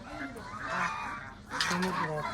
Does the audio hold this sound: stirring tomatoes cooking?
no